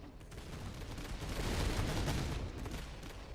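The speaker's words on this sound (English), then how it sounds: "grenades going out" Grenades go off in the strategy game Master of Command, a dense, rumbling volley of blasts that swells in the middle and then eases, with no talk over it.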